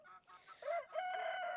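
Hens in a backyard chicken flock call and cluck close by in short bursts, ending in a longer drawn-out squawk, with no one talking.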